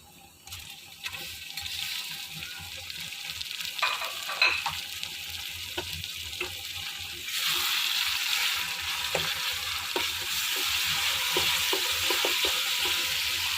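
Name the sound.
tomatoes cooking in a pan for mixed vegetable curry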